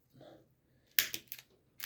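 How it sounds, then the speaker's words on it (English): Snips bite through the excess end of a Cat6 ethernet cable in a few sharp, close clicks and snaps, with a soft rustle of handling just before. "I'm going to just snip a bit of excess here before I get my crimping tool."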